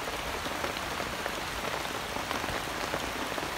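Steady rain patters on surfaces nearby, a dense, even hiss of drops with no pauses and no voices.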